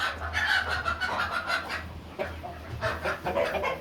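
Chickens clucking in a hospital pen at Riverview farm, a steady run of close, overlapping clucks and murmurs with a low background hum, no talk.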